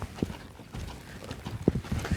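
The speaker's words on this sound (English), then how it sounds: "You're gonna drive that horse up into that lope." Horse hooves clip-clop in a loping rhythm during a riding lesson, muffled hoofbeats with a few sharper thuds over steady ambient noise.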